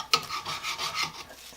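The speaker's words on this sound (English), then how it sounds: "I wonder if I can just scrape some of this stuff off." Scraping old chemical-stripped residue off a metal tank bracket gives a close, raspy rubbing, a sharp initial scrape followed by several rhythmic back-and-forth strokes over about a second, with no talking.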